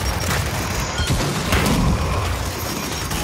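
Frag grenade blast in the shooter Gears 5 during Horde mode on the Atrium map, a dense, loud rumbling boom amid sustained gunfire and battle noise.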